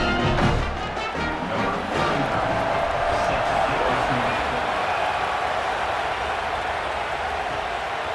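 A loud stadium crowd at a night football game in NCAA Football 27, Florida State versus New Mexico State, roars and cheers, swelling at the start and then holding as a steady wash of noise.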